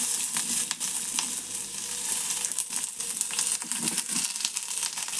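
Onions fry in hot oil for a chicken gravy, giving a steady close sizzle with crackling pops and occasional stirring scrapes throughout.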